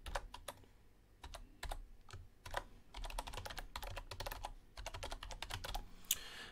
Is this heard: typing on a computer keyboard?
yes